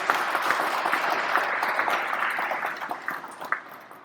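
A steady wash of audience applause at a city development event in Omaha, many hands clapping densely and evenly for about four seconds, fairly loud and close, with no speech over it.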